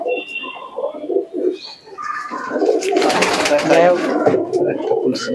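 Closed-tail tournament pigeons coo in low, rolling bursts close by, overlapping with a person talking throughout.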